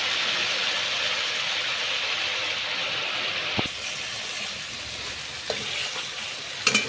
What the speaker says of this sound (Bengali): পেঁয়াজের কাঁচা গন্ধটা বেরিয়ে যাওয়া অবধি আমি একটু 2-3 মিনিট ধরে পেঁয়াজটাকে ভাজছি